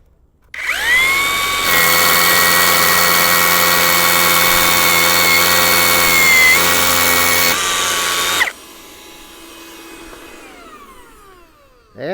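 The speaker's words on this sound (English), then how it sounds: "I have a concrete block down here that I'm going to try drilling into." A loud, continuous cordless rotary hammer whine runs for about eight seconds while drilling into a concrete block, steady and close, then cuts off, leaving quieter mechanical rattling and a faint hum.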